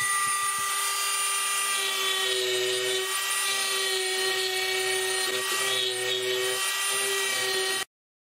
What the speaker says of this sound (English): I don't know of any good way to cut it off, so I'm just going to take a Dremel tool and try that